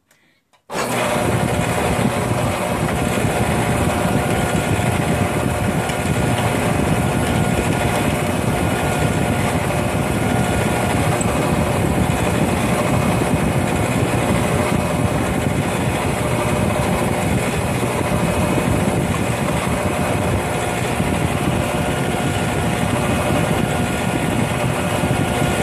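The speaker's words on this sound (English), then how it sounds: "I'm going to start drilling with an 1/8 inch diameter bit first" A power drill spinning a 1/8 inch bit starts abruptly and runs at a steady high-pitched whine, loud and close. It drones continuously for over twenty seconds with no pauses and no talk.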